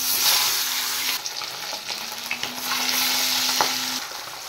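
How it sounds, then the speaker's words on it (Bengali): Oil and fish frying in a hot wok: a steady, close, bright sizzle with a few clinks and stirring scrapes, no talk. "কড়াই গরম হয়ে গেছে, এবার আমি মাছ ভাজার জন্য তেল দিয়ে দিচ্ছি।"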